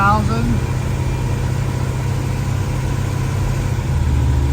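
A 1968 Dodge Charger engine holds a steady mid-rpm drone around 2,000 rpm, a continuous low hum close by with a brief higher tone at the start.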